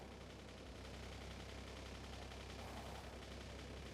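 Turrets in the Factorio video game fire nonstop at attacking enemies, producing a dense, continuous rattle of rapid gunfire that stays fairly quiet and steady throughout.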